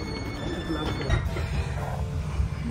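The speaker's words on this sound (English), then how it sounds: "On a train, literally." A train riding on the rails, giving a steady rumbling roll with faint wheel squeals and clatter, while people talk quietly over the noise.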